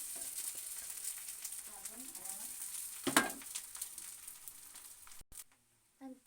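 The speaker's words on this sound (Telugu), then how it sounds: "తర్వాత ఇట్లా కలుపుకోవాలి మంచిగా తర్వాత అన్నం అంతా ఇట్లా వేసేసుకుంటున్నాను" Cooked rice is tipped into a pan for egg rice and stirred, with a soft sizzle and scraping stir strokes that rise briefly to a louder clatter, then drop away to near silence at the end.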